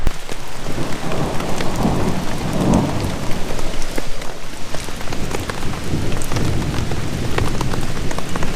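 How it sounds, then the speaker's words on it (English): A downpour hammers down constantly in the woods while low thunder rumbles beneath it, with sharp drips and splatters scattered through the steady roar. "You know guys, it's still storming."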